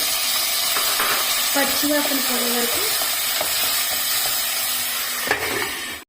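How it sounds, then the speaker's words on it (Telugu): Green peas sizzling and frying in a hot pan, a steady close hiss with occasional light stirring clicks and a faint voice in the background. "పచ్చివాసన పోయే వరకు ఫ్రై చేసుకోవాలి"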